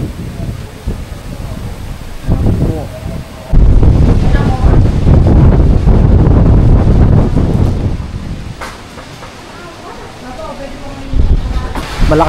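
Strong typhoon wind, at signal number 5, buffets the microphone in loud roaring gusts that swell and ease, with a person talking under it.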